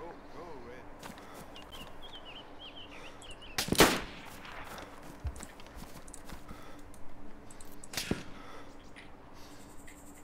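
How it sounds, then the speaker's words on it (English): Two sharp gunshots from the video game DayZ, one near the middle and one toward the end, ring out amid background ambience while voices talk over the scene. "Shooting over your head, man."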